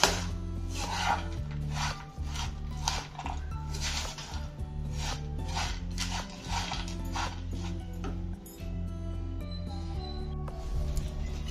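Dates and dry fruits are mixed for laddoo with grated nutmeg, giving steady close rubbing, scraping and clattering under a low mechanical hum, with no talking.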